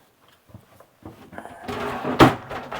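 Doors of a shower stall in a 2023 Dynamax DX3 Super C RV slam shut with a loud bang after a few softer knocks and rattles.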